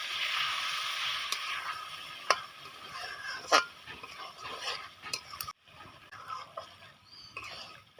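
Mutton curry fries in a pan while a spoon stirs it, soft sizzling under scraping and occasional metallic clinks against the pan, close and fairly quiet.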